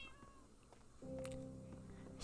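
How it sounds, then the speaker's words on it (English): A cat meows inside the video game Minecraft, one of a pair of cats in a player's world, heard as a short synthetic-sounding meow over a steady background of game music and ambient tones. "These are her two kitties."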